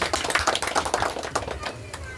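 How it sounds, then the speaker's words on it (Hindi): Crowd clapping at an election campaign meeting at a historic bungalow in a village, irregular bursts of hand claps with a voice over a loudspeaker mixed in. "जोरदार तालियां बजाएं।"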